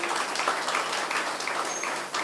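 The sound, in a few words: round of applause at awards ceremony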